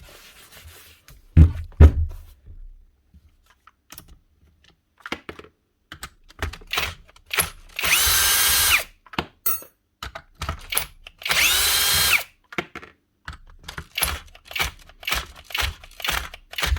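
A repaired demolition hammer runs in two loud bursts of a couple of seconds each at high speed, with scattered knocks, clicks and handling noises between and around the runs.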